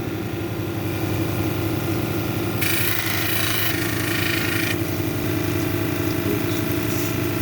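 Steady motor drone of a lapidary wheel polishing an epidote cabochon at 600 grit, with a brighter hiss of stone against the wheel arriving partway through and lasting a couple of seconds, no talk.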